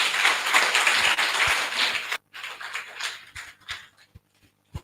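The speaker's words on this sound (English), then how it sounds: "let us give another round of applause for Ms. Chesu Palia" An audience at a Camp xSEL science education graduation ceremony in Montserrado, Liberia, bursts into dense applause that lasts about two seconds, then thins to a few scattered, fading claps.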